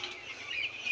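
Chicks at a new poultry farm, about 1,500 twelve-day-old birds, giving close, high peeping chirps in a continuous overlapping chorus.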